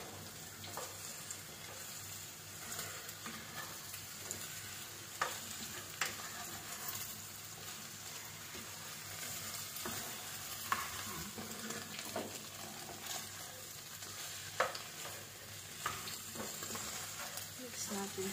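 Fried potatoes being stirred in a hot pan, with a constant dense sizzle and scattered scraping knocks from the utensil over nearly twenty seconds.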